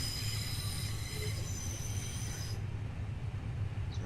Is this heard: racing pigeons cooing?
no